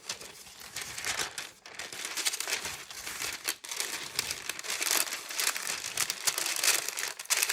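Torn wax paper being crumpled by hand at close range, a continuous crackling and crinkling that rises and falls with brief pauses, with no other sounds.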